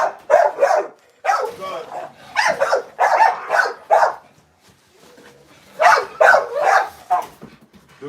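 An aggressive American Bully dog barks in loud, repeated bursts, with growls and yips between the volleys and brief quiet gaps.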